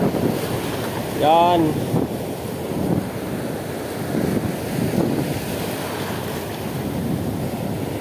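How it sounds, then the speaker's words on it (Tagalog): Huge ocean waves rolling and crashing around a boat at sea, a loud continuous roar of surf and wind buffeting the microphone, with a brief shout and some voices in the background. "Napakalaki ng alon."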